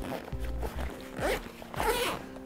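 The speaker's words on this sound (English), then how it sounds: "That way we can make it real easy to zip up." Zipper being pulled closed around a Let's Go Aero expandable cargo bag, several long close zips in bursts with rustling fabric between them, no talking.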